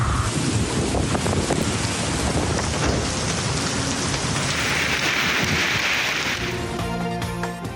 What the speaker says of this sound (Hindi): लाहौर में भी बारिश